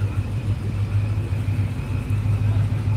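A red Dodge Durango's exhaust rumbles steadily at a deep, throaty idle, loud and close, with no voices over it.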